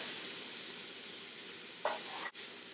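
A bison burger patty sizzles in a pan with a soft, steady hiss, then a brief clatter and a short gap as it is flipped.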